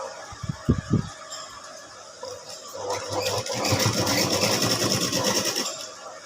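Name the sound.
sewing machine stitching a halter neck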